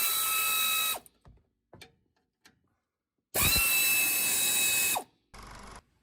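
An impact or power tool spins spring bracket bolts off a Ford F100 front I-beam suspension in loud, close bursts, with two long runs, a shorter one at the end and brief ratcheting clicks in between.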